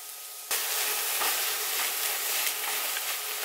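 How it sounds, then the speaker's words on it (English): Beaten eggs hit a hot pan of sautéed vegetables for cauliflower fried rice, setting off a sudden, loud, continuous sizzle that holds steady with no talking. "Then we're gonna drop 2 beaten eggs into here"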